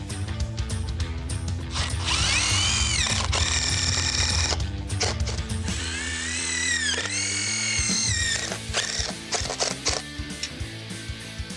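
A power drill drives fasteners into the bottom of a deck stair stringer. The motor whines and ramps up and down in several loud bursts over a steady background.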